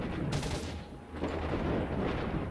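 Gunfire in S.T.A.L.K.E.R.: Shadow of Chernobyl rattles in quick repeated shots, fairly loud and continuous through the short clip with no speech over it.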